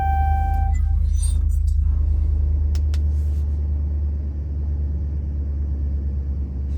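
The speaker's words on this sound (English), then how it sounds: "So press the brake and start your vehicle to get to the next step." A 2013-2016 Dodge Dart sits running with a steady low engine rumble, heard from inside the car, with a few short dashboard chime tones at the start before the idle settles.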